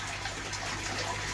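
Water pours and gushes steadily during a fish pond water change, a continuous close rushing flow with no other sounds.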